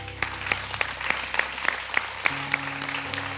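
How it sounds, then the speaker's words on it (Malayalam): Applause from a studio audience at a televised cultural performance show, a steady run of claps with regular sharp peaks over a low hum, no voices over it. "ഒരു ക്ലാപ്പ് കൊടുക്കാം"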